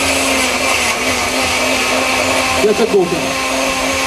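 A countertop blender whirs steadily, blending kale and strawberries into a smoothie, a loud continuous motor drone with a slight wobble near the end as a voice speaks briefly over it.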